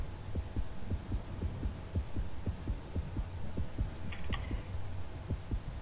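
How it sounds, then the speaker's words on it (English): Heartbeat monitor in a video game thumps in a fast, steady double-beat rhythm over a low hum, close and continuous with no talk. "My heartbeat monitor was going crazy."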